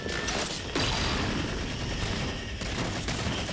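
A pistol fires in Halo 4 multiplayer Oddball: a dense, loud stretch of rapid gunfire with mechanical clatter that runs continuously throughout.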